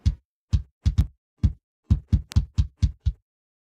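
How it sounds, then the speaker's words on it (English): About a dozen punchy kick drum hits from a drum plugin, EQ'd with low mids cut and top end added, thump alone in a loose, uneven rhythm, each short and tight with a deep low end and a crisp click. "This is a bit more modern sound for a kick drum"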